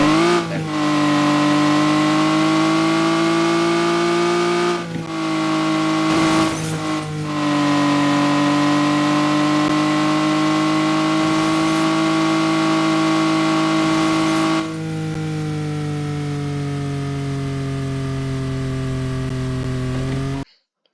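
Steady, loud car engine drone in a Unity racing game, holding a constant pitch with brief dips and shifts as the vehicle drives and reverses, continuous for the whole stretch with no talk.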